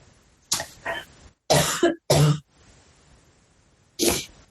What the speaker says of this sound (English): Sorry, I've got to cough.